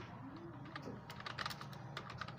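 Quick, quiet taps on a computer keyboard, an uneven run of light clicks close by with no talking over them.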